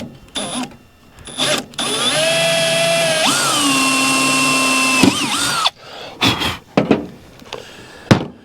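A power drill bores holes in a steel steering support bracket on an M274 Mule, with a high whine held for a few seconds amid clicks and clatter from handling the part.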